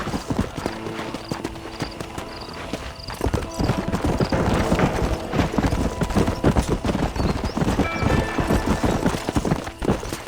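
In the Red Dead Redemption video game, horse hooves clip-clop at a steady trotting rhythm throughout, loud and close, mixed with game ambience, with a faint whinny in the background.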